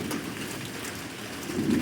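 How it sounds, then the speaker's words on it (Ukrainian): Steady rain pours down on a yard during a dark afternoon storm, with a low thunder rumble swelling toward the end; no voices. "Ось чуєте, гремить."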